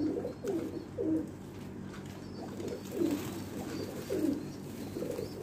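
A pigeon held in the hand coos in a soft, repeated low burble, about six calls spaced roughly a second apart, close and moderately loud with no talking.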